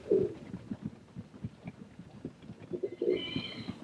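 Roller pigeons in a loft, drinking from a milk-jug waterer, make soft low cooing and murmuring with light rustling. The sounds come in a steady, close and gentle series, with no talking.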